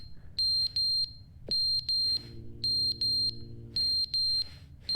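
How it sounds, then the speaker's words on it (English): Smoke alarm in The Stanley Parable: Ultra Deluxe video game beeping in repeated pairs of sharp, high-pitched chirps at a steady rhythm, four pairs in a row, over a low background hum. "Is it a smoke alarm? Oh no. Is it out of battery?"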